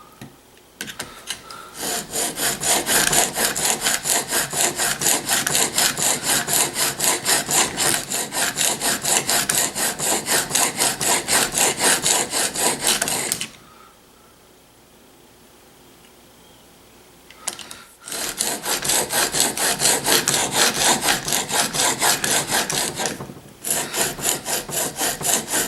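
Steady back-and-forth scraping of a badly damaged chisel being sharpened on a stone, a dense rhythmic rasp that runs for long stretches, stops for a few seconds of near quiet, then resumes, close and loud.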